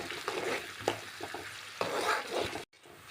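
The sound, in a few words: garlic, green chilli and curry leaves frying in a pan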